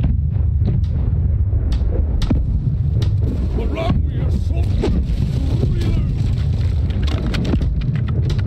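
Heavy ship cannon fire booms repeatedly in irregular bursts over a dense, roaring low rumble in a naval battle in the game Blackwake.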